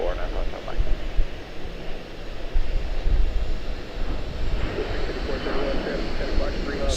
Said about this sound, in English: We just see a Globemaster rotate around the corner on us, man.